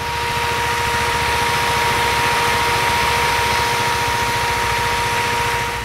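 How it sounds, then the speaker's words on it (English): A 2017 KTM Duke 390 motorcycle engine idles steadily and fairly loudly, with a constant low rhythmic throb and a faint steady whine above it, alone and without talk. "The motorcycle now sounds much better than before. Here is how it sounds."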